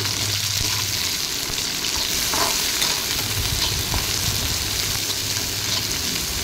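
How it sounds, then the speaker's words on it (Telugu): Chopped onions and chillies frying in hot oil with garlic and curry leaves for a teasel gourd dish, a steady loud sizzle with occasional stirring scrapes, no voices. "కట్ చేసి పెట్టుకున్న ఆనియన్స్, చిల్లీస్ ఇవి కూడా వేసేసుకొని బాగా ఫ్రై చేసుకోవాలి."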